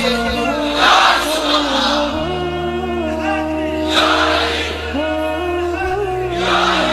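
A crowd at a religious gathering for the Battle of Badr commemoration shouts slogans back in unison, with repeated loud chanted phrases rising and falling in waves.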